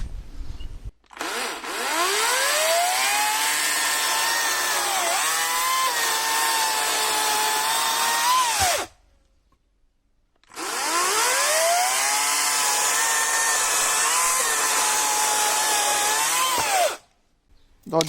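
A Parkside PKSA 40-Li 40V brushless cordless chainsaw revs up and cuts at full speed through a tree felled a couple of months earlier, two long, loud, steady whining passes separated by a brief pause, with no talk over it.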